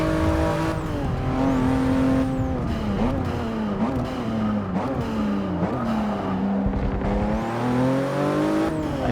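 Race cars in Forza 6, including a Porsche, Audi and Lamborghini, roar steadily at high revs through a race, with engines climbing and dropping through gear shifts and faint tire squeal, loud and continuous with no voices.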